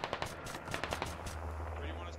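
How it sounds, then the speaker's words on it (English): In the military shooter game Squad, rifles fire into a smoke screen in quick sharp bursts for about a second and a half, then give way to a low steady hum. "Russians are now throwing rounds into the smoke."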